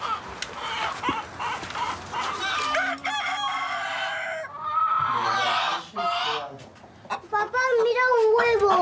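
Hens of six breeds in a restaurant owner's henhouse cluck and squawk close by, a rooster crowing loudly among them in a busy, continuous chorus.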